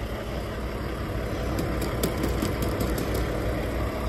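A vehicle engine idles after an overnight snowfall in -20 degree cold, giving a steady, continuous low rumble that stays at an even level throughout, with no voices.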